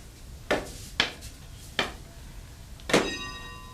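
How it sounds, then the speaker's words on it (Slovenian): A wishing bell at a small church rings four times with clanging metallic strikes spaced unevenly, the last one ringing on with a bright, lingering tone, heard close with no talking. "Pri cerkvici je tudi zvon želja."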